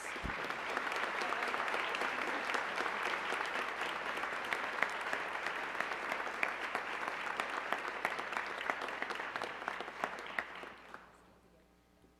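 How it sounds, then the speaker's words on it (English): A banquet audience at a university honors dinner gives a loud, sustained round of applause, dense and continuous for about eleven seconds before it fades quickly into quiet. "Would you all please join me in giving a round of applause?"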